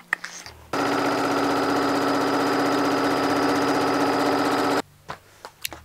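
A sewing machine stitches around the edge of a fabric panel pillow in one steady, fast, buzzing run lasting about four seconds, with brief handling clicks before and after.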